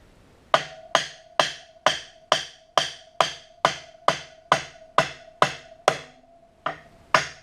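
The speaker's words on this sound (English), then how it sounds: "Not with the metal end of the hammer, but the wood end." Thirteen sharp, evenly spaced taps from the wooden end of a hammer ring out close up on a dirt bike, each a hard knock on metal with a brief ringing tone, one slight pause near the end.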